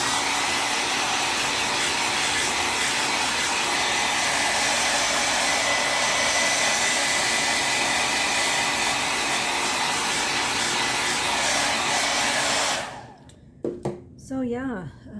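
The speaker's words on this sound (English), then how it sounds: "I'm going to dry this a little bit." A hair dryer blows on a craft project in a continuous loud, steady whoosh for about thirteen seconds, then shuts off, leaving a few faint handling knocks.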